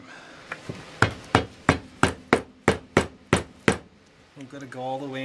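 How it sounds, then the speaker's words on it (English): About ten sharp hammer strikes ring out in an even, steady rhythm on a cutting board during a PC case modification, close and loud. A few lighter taps come before them, and a voice follows afterward. "Guess we're gonna go a little hammer time."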